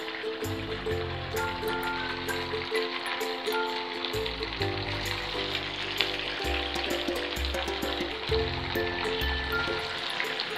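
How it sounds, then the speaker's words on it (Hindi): Semolina kachoris fry in hot oil in a kadhai, producing a continuous, even bubbling sizzle close up for the whole stretch, with no one speaking. "ऑयल अच्छे से गर्म है तो इसे बाहर निकाल लेते हैं और इसमें कचौड़ियाँ डालते हैं"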